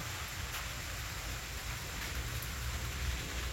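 Light rain falling outdoors in a garden, a soft, steady hiss of drops with a few faint taps, constant and fairly quiet throughout.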